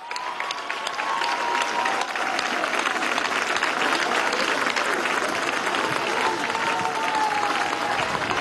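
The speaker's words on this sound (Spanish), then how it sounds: "recibamos con un fuerte aplauso" Sustained crowd applause with scattered cheers at a political rally and march against violence toward women in Venezuela, a dense, steady wash of clapping lasting throughout.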